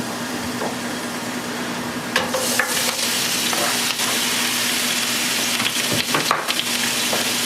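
Fajita ingredients sizzle and fry loudly in olive oil in a small non-stick pan over medium heat, a steady close crackle throughout, with a few scraping stirs and clacks partway through.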